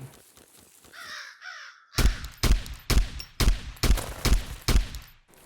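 Repeated gunshots from a weapon firing M80 ammo in the video game Zero Sievert, about eight loud, evenly spaced shots in a steady semi-automatic rhythm, preceded by a brief bird-like call and soft ticks.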